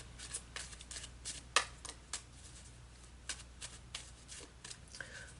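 Tarot cards being shuffled by hand, a series of soft, quick papery riffles and taps in irregular bursts, close but quiet, with no one speaking.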